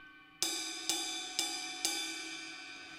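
A drum stick taps the bow of a ride cymbal four times at a steady pace, each stroke a clean shimmering ping that rings on and overlaps the next, close up with no talking.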